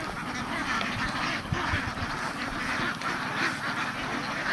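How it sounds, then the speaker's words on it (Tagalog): Domestic ducks quacking as a crowded flock, a dense, continuous chorus of overlapping calls at close range that holds steady throughout, with no clear speech. "So ayan ang ating mga alagang itik."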